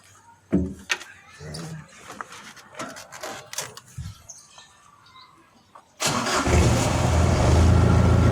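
A 1951 Ford F1 running on diesel cranks and fires up after a few seconds of quiet shuffling and clicks, then settles into a loud, steady clattering idle close by.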